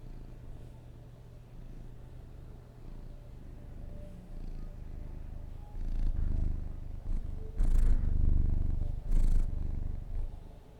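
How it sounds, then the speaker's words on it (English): A cat purring steadily and close, a low continuous rumble that grows louder midway, with no talk. "Listen to him purring."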